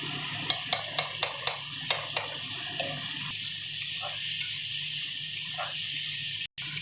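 Ghee sizzles in a pan for dal tadka, opening with a quick run of sharp spoon clinks against the pan over a steady frying hiss that carries on alone.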